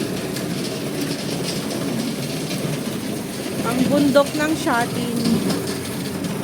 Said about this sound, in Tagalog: Ang ingay ng planggana ni Lola